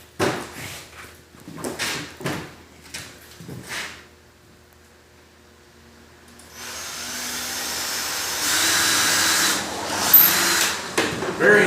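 A power drill drives screws into the corners of a wooden display case, first in short separate bursts, then after a pause a long steady whine that runs to the end, loud and close.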